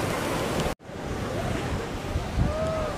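Sea waves washing onto the shore at Digha beach in West Bengal, a steady broad surf roar with wind buffeting the microphone and a brief dropout near the start.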